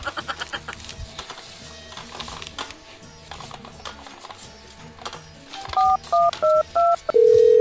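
A telephone number is keyed in, a quick run of about six clear DTMF tones in an uneven rhythm followed by a longer steady tone, heard after a stretch of muffled background noise.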